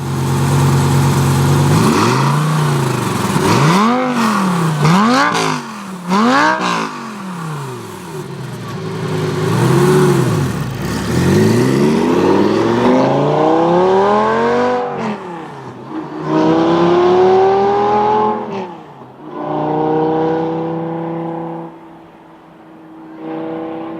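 An orange Lamborghini's engine revs hard and accelerates while driving, its pitch sweeping up and down through repeated gear changes, loud and close for the whole stretch before easing off near the end.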